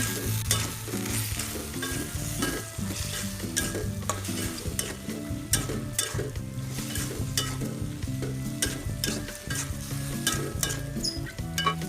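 Squid and stink bean sambal stirred in a pan with lemon basil, frying and sizzling steadily with rhythmic scraping strokes throughout, loud and close with no talking.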